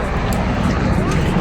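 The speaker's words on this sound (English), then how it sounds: "You guys can barely hear me because of the traffic" Busy road traffic rumbles loudly and continuously, a dense wash of passing vehicle noise close by.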